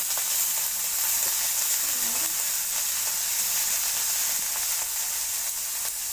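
A steady, hissing sizzle of spices frying in hot oil fills the whole stretch, close and constant.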